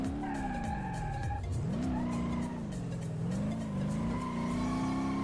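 A Nissan S13 drifting in BeamNG.drive, its engine note rising and dipping as the clutch is kicked, with sustained tire squeal over a loud, continuous revving whine and no talking.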